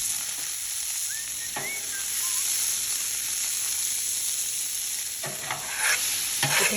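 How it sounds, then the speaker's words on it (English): Butter sautéing on a Blackstone griddle, with a steady close sizzle and hiss running throughout and a few light spatula scrapes toward the end. "I'm now going to apply butter to this area, and we're going to saute these bad boys right here"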